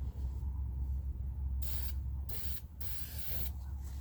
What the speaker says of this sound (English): So we're going to spray inside the post,